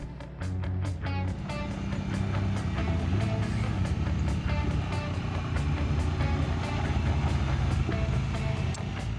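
An ROV (recreational off-highway vehicle) drives and weaves through a cone course, its engine a steady, loud mechanical drone with rattling and clatter throughout.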